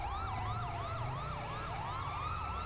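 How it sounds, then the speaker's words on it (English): Several emergency vehicle sirens wail at once in a roleplay video game, overlapping yelp and wail patterns that rise and fall quickly over a steady engine rumble, loud and continuous with no voices. "Let's get all lights and sirens and stuff off."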